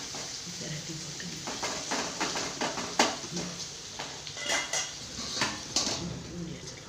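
A spatula clinks and scrapes against a pan while ivy gourd stir-fry is tossed at home, giving irregular metallic taps of varying loudness over a steady background hum.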